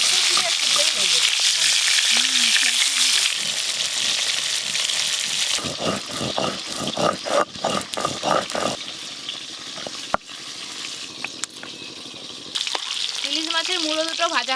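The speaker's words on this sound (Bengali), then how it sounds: "ইলিশ মাছের মুড়ো দুটো ভাজা হয়ে গেছে" Two hilsa fish heads frying in hot oil, a dense close sizzle with spatters and stirring clatter, while someone talks over the start and end.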